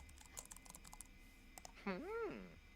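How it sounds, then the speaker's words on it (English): A Sim types on a computer keyboard in The Sims 4, with quick light key clicks in scattered bursts under game ambience, then a rising and falling synthetic voice-like tone near the end. "It's like he's typing blind."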